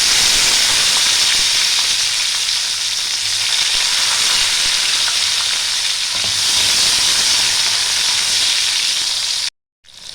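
Bay leaves frying in hot oil with cloves and dried chillies as the base for khichuri, a loud, even, close-up sizzle that holds steady before cutting out briefly near the end.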